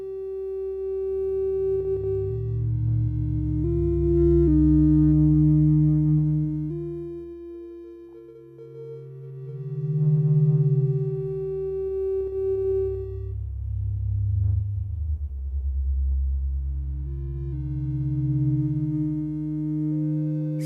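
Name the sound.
SonicLAB Fundamental synthesizer frequency modulation tone with changing rate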